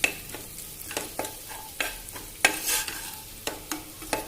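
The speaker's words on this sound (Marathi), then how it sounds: "थोडासा गरम मसाला आणि छान परतून घ्यायचं" A spoon stirs a sizzling pan with garam masala being sautéed for pasta, with rhythmic scrapes and clacks over a steady frying hiss, close and clear.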